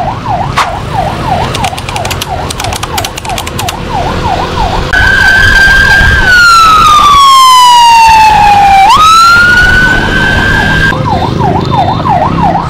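A wailing ambulance siren on an emergency call, loud and close, cycling in rapid yelps before shifting into a long falling wail, then returning to the quick warble, with no talk.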